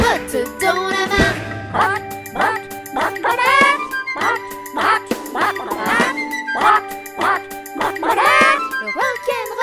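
Ducks in a farmyard quack repeatedly within a bouncy children's nursery-rhyme tune, the sounds layered over sustained musical notes and arriving in lively bursts.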